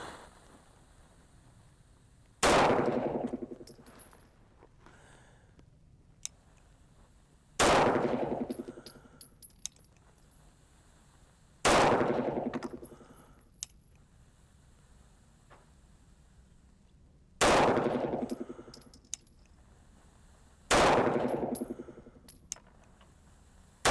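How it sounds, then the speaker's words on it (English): Five loud, sharp 9mm pistol shots from a 5-inch 1911 firing Winchester T-Series ammunition, each spaced about four to five seconds apart with a ringing decay, quiet between shots. "This will be the 5-inch 1911, shooting Winchester T-Series"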